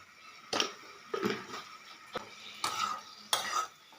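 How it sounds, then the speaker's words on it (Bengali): A spoon scrapes and clatters in a cooking pan in several sharp, separate strokes, stirring Kashmiri chilli powder and a little sugar into onion and pointed gourd, close and moderately loud with a soft background hiss. "সব কিছু দিয়ে এবার এটা ভালো করে নেড়ে দেব"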